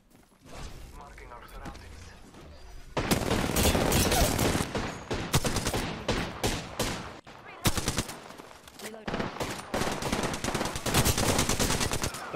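Rapid SMG gunfire in Apex Legends, long sustained bursts with brief gaps, loud and close, while players talk over the shooting.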